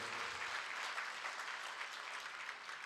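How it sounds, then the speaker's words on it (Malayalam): A church congregation claps together, a dense, even wash of applause that holds steady from start to finish, moderately loud. "ഒന്ന് കൈയടിച്ച് ദൈവത്തിന് മാത്രം കൊടുത്തേ"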